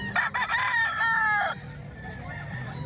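A rooster at a poultry market in Calumpit gives one loud, close crow lasting over a second, followed by fainter background clucking and murmur.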